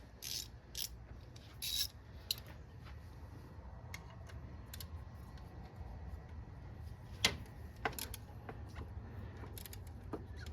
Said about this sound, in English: now I'm going to tighten up that bolt